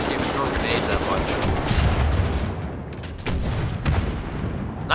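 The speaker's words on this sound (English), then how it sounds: "Already getting shot at" Gunfire from the Wolfenstein: The New Order video game, a loud, dense stretch of rapid shots and booming impacts that keeps going under a continuous game soundscape.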